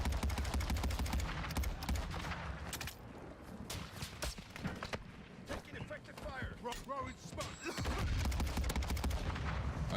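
Rapid gunfire rings out in Call of Duty Warzone 2 Resurgence on Al Mazrah, with dense, loud bursts of shots that continue almost without pause and a voice murmuring beneath them.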